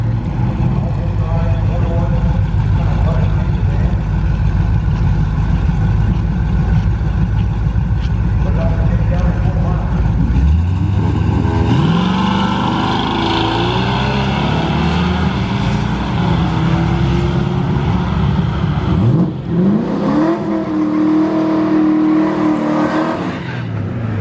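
A drag race car makes its first pass of the day at a strip in Great Bend, Kansas: loud engine drone builds, then sweeps upward through rapid gear changes as it launches and pulls away, with a second surge near the end.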